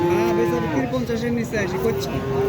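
A cow moos loudly in a long, wavering call, close by, at the Baneshwar cattle market in Bangladesh, with a busy crowd murmuring faintly underneath.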